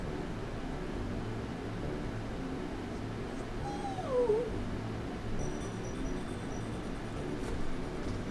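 A house cat meows once, a faint drawn-out call in the mid-distance, over steady background hiss in an indoor room.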